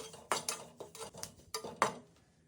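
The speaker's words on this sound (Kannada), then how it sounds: "ಇವಾಗ ಕರಿಬೇವಿನ ಹುರ್ಕೋತಾ ಇದ್ದೀನಿ." Curry leaves are roasted and stirred in a pan, a series of close, sharp metal scrapes and clinks from the spoon against the pan, with quiet gaps between strokes.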